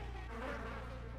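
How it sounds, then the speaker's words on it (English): Bees buzzing in the System Shock 2 25th Anniversary Remaster video game, a steady close drone with a low hum underneath, constant and unbroken with no voices. "Yeah, there's the bees."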